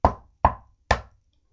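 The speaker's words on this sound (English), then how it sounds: "he heard a big bad shark knocking on the door" Three firm knocks on a door, evenly spaced about half a second apart, each a sharp close thud with a quick decay, heard alone in silence.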